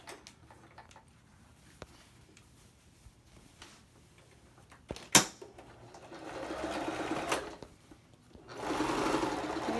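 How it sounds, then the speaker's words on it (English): A sewing machine stitches a seam along the edge of a fabric Boomerang Bag, its steady rapid ticking patter growing louder in fast bursts toward the end, with faint talk underneath. "So I'll start by doing the seam, the one closest to the edge."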